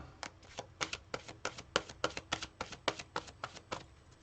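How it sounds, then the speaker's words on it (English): Tarot cards are shuffled in a quick, regular run of soft riffling taps, close and quiet, with no talking. "I need to shuffle a tiny bit more, Lavender Girl, sorry."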